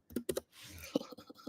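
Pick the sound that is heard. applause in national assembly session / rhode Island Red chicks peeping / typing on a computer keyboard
typing on a computer keyboard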